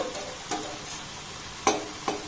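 Ripe mango and semolina fritters frying gently in a little oil over a low flame, a soft steady sizzle with a couple of brief sharper crackles and spatters.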